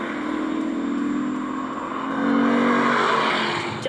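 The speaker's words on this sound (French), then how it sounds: "Le son du moteur est incroyable." A Lexus RC-F's 467-horsepower V8 accelerates hard out of a corner, a loud, sustained engine roar whose pitch climbs and swells toward the end, with no talking.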